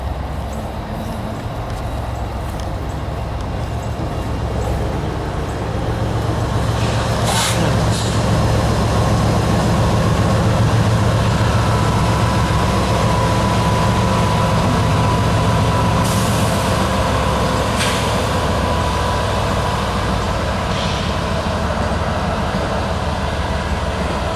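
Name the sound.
Southern 8099 steam locomotive pulling excursion train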